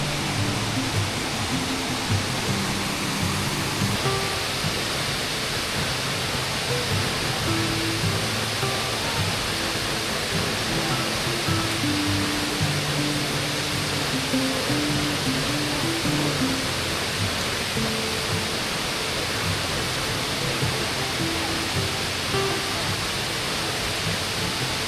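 Waterfall at Waterfall Gully in Adelaide, a steady broadband roar of falling water that holds constant throughout, with faint tonal chirps over it and no talk.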